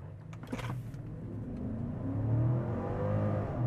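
An Infiniti FX50 with a 5.0 V8, all-wheel drive, in sport mode with the transmission in S and stability control off, accelerates hard, its engine note rising steadily in pitch from inside the cabin after a brief clatter.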